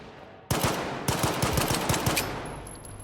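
AK rifle fire in the video game STALKER 2: a rapid burst of about a dozen close, loud shots in quick rhythm, ringing out briefly afterward.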